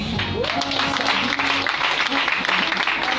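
A church congregation applauds their apostle, dense continuous clapping filling the room with a voice speaking over it.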